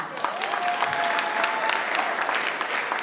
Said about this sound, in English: At this point, you have to clap.